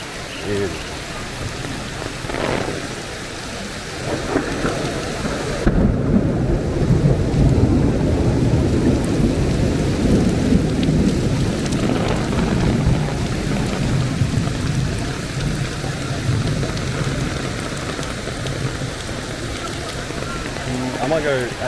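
Heavy rain pours steadily onto a city street in China during a big thunderstorm, with low rumbles of thunder rolling beneath the dense hiss, loud and enveloping, while someone talks at times.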